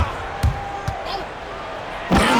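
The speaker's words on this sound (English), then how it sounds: "Hammering down the two-hand slam" A two-hand slam dunk in the NBA 2K26 basketball video game lands as a sharp thump, with a couple of ball bounces and crowd noise swelling at the end while commentary runs beneath.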